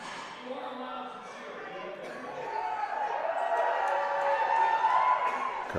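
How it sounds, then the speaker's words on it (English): A crowd cheering for a female powerlifter at a USAPL Colorado meet, the noise swelling steadily louder as she gets ready to lift, with a commentator talking over it. "Big cheering section for her."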